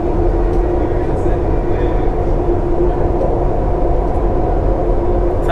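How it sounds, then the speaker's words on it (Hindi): A Dubai Metro train approaches and passes, a loud, steady low rumble and roar that holds for several seconds, heard close from on board or on the platform. "सामने से जो मेट्रो आ रही है"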